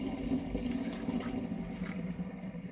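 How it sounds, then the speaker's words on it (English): Cherry and apple turbo cider poured quickly through a funnel, a steady gurgling, rushing flow of liquid heard close and alone throughout. "now I'm going to pour in the cherry and apple turbo cider"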